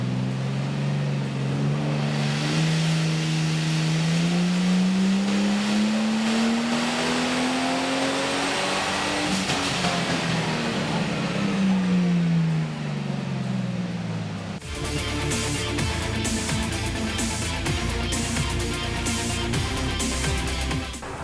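A Ford XR6 Turbo engine in a kart roars through a dyno power run, its boost fluctuating from a struggling wastegate actuator. The loud, sustained drone climbs steadily in pitch, dips, then shifts abruptly to a rougher, pulsing tone near the end.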